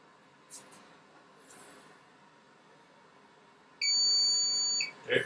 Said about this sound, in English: It beeps, it's done.